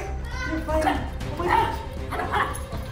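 A Goldendoodle puppy gives several short, high yips and barks in quick bursts at close range, with people talking and reacting over and between them.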